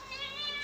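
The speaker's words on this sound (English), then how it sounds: "I have a pussy cat." A pet cat gives one short, clear, drawn-out meow, close and fairly loud, with a slightly wavering pitch.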